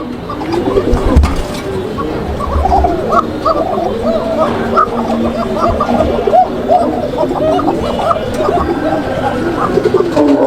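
A pair of Bokhara (Kokka) pigeons, male and female, cooing close by in a loft, with repeated throaty, rolling coos overlapping steadily throughout and faint voices in the background.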